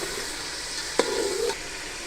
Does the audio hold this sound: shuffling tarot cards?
no